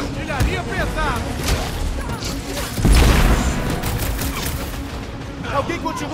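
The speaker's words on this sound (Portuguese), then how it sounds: "Na hora da artilharia pesada." Heavy artillery blasts in Marvel's Guardians of the Galaxy video game: a dense fusillade of gunfire and booms with one big explosion midway, mixed with chattering voices and battle noise.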